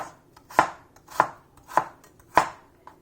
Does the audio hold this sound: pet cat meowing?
no